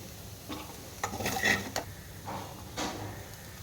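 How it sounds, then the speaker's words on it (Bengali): Fried potatoes are lifted out of a pan, heard as a few scraping and clinking spatula strokes against the metal over a faint background sizzle, with short pauses between the strokes. "আমার আলু ভাজা এখন ডান, তো এটা এখন আমি তুলে রাখবো"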